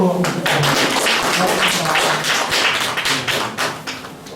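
Seminar audience clapping together through the whole stretch, dense and steady, fairly close and loud, with a voice or two mixed in underneath.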